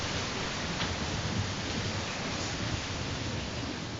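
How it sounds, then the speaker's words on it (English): Steady rain falls in a dense, even hiss that holds constant without pause, heard outdoors at a training center at the start of the rainy season. "It's raining at the moment."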